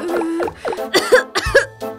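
A cartoon character with a cold coughs repeatedly, a rapid series of loud, close, hoarse coughs with brief gaps between them.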